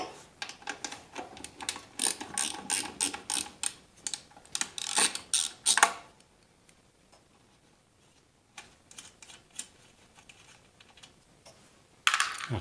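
Quick ratchet clicks in short bursts while 10 mm nuts holding the carburetor come off a Generac GP-series portable generator, close and fairly loud, then a quieter stretch with scattered clicks and a final burst.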